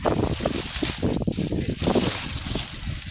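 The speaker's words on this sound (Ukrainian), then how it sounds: "Ора, я переживаю, щоб тебе вітром не здуло" Wind blowing outdoors on a frosty morning, buffeting the microphone in heavy, uneven rumbling gusts that swell and ease without pause.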